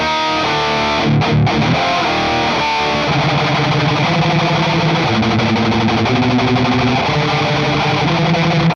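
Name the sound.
distorted electric guitar through metal amp preset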